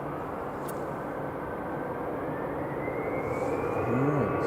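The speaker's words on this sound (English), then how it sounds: "some EasyJets just taxiing out now." EasyJet jet airliners taxiing at Edinburgh Airport, a steady broad engine roar heard from a distance with a faint rising whine, continuous and fairly loud throughout.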